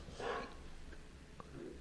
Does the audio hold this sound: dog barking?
yes